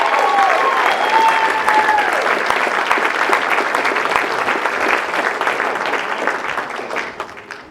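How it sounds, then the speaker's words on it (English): An audience at a UCP town hall bursts into a big round of applause for a speaker, loud continuous clapping with scattered voices that slowly thins toward the end. "Dr. Eric Payne, everybody, big round of applause."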